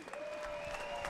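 Applause from the crowd at a boxing world title fight, a steady dense wash of clapping that fills the whole moment with no break.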